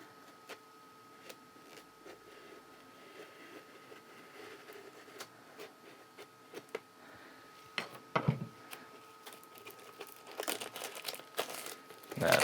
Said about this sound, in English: taking a reasonably sized knife, and we're going to cut right along the top here